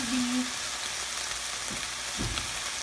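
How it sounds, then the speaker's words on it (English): Sausage browns in a pan with an even hissing sizzle, close and steady, with a couple of soft knocks from moving the meat and no clear talk. "now we go back to the sausage, and you just let it brown"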